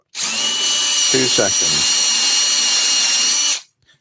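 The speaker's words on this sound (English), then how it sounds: "I'm going to position the helmet over that and drill down through" A power drill with a small bit bores down through a wooden turned helmet on a workbench, a loud steady whine lasting about three and a half seconds, with a brief spoken word partway through.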